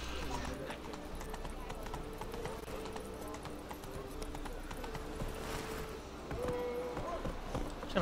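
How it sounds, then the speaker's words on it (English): A horse cantering in The Witcher 3 video game, rhythmic hoofbeats clip-clopping steadily throughout under game ambience, with a brief whinny-like tone near the end and a person talking over it. "Can I just get on Roach? Time to canter."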